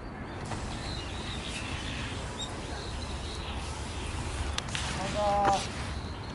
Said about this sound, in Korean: 자, 그럼 새소리 들어봅시다. 저기 까마귀도 있고.